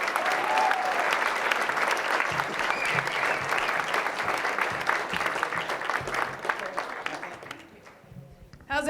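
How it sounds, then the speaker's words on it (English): An audience applauds a speaker taking the stage at a storytelling event, sustained dense clapping with some cheering that fades near the end before a voice cuts in. "Clap for Jessica"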